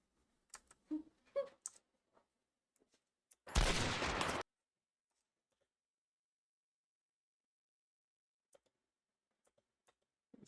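A short, loud burst of gunfire from a video game firing range, where the shots miss, stands alone between faint clicks and quiet gaps.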